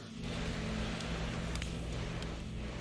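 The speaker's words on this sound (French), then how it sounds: "C'est le bruit de la pluie." Steady rain falls in a dense, even hiss that holds at a quiet level throughout, with a faint low rumble underneath and no voices.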